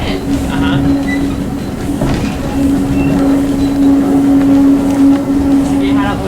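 Heritage steam train running on the Tanfield Railway, heard from aboard as a loud, steady rumble with rattling carriages and a sustained squealing tone, with people talking over it.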